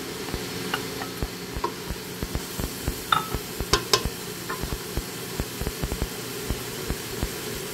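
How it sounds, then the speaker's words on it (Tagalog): Carrots, tofu and potatoes drop into a hot pan and sizzle, with a steady fry beneath a string of sharp clinks and scrapes as the food is stirred and tipped in, fairly close and with no talking. "ihulog na po natin ang ating carrots. Kasama ng ating tokwa. And patatas."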